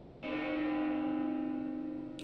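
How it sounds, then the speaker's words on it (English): A single church bell in Xenoblade Chronicles 2 strikes once and rings out with a long, sustained, slowly fading hum. The tone is clear and resonant, and it sounds alone. "The bells have stopped."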